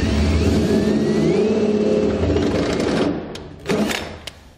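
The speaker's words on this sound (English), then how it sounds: "use a 5/8 drill bit to drill out our safety chain loops" A 5/8 drill bit bores through the steel safety chain loops of a Curt EZr double lock underbed gooseneck hitch in a 2015 Chevrolet Silverado bed. The steady, loud whirring grind runs for about three seconds, then stops and is followed by a few short clanks.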